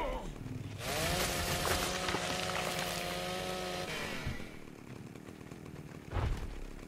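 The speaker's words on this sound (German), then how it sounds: "Griff zur Kettensäge, ne?" A chainsaw in the video game ARK Fjordur revs to a loud, steady droning whine for a few seconds, then cuts back to idle with a brief rev near the end.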